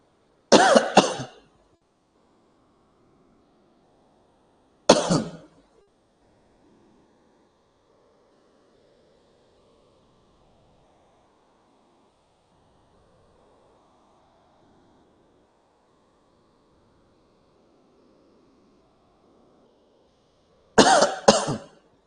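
Three short, sharp coughs spaced far apart: one at the start, one a few seconds later, and one near the end, with near silence between.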